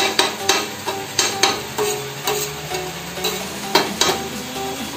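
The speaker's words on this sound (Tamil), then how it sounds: "நீங்கள் கொத்தி விட்டுக்கோங்க." A dosa spatula chops kothu parotta in a frying pan, a steady run of sharp metallic clacks against the pan over a constant loud sizzle of frying food, close and alone with no talking.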